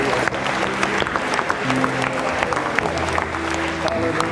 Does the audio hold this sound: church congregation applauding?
yes